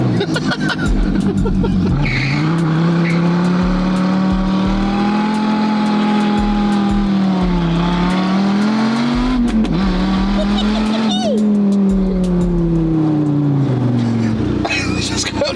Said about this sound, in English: Burnout straight away.